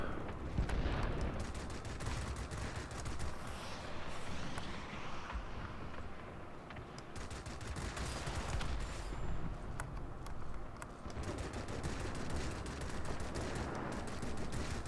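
Rapid bursts of aircraft machine-gun fire in a World of Warplanes air battle, dense rattling volleys repeating almost continuously, with brief pauses, set against a busy engine and combat din.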